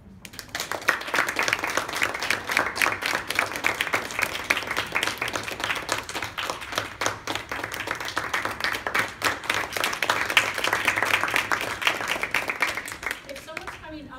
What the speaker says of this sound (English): we usually clap on their way up and on their way back